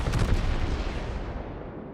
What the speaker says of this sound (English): But that volley actually hit the Wyoming hard enough